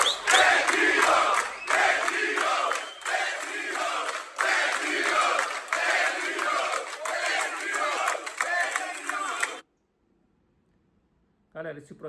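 Vasco supporters chanting in unison at a protest at São Januário, a loud, massed crowd roar that rolls on steadily, then cuts off abruptly into silence before a brief return.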